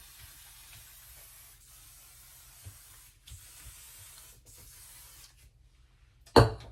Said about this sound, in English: I actually hit everything else with some oil sheen as well